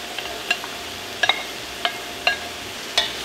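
Leeks and diced Yukon Gold potatoes get stirred in a stock pot, with a handful of crisp, spaced clacks and scrapes of a spoon over a faint, quiet sizzle, close up and without talk.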